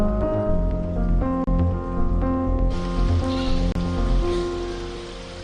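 Heavy rain pours steadily during flooding in West Aceh, a dense continuous hiss mixed with a steady tonal hum, with no talking.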